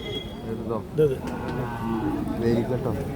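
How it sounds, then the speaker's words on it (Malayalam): A jallikattu bull lows several times amid background voices and farmyard noise at a cattle market, moderately close. "ജെല്ലിക്കെട്ട് കാളാണ്"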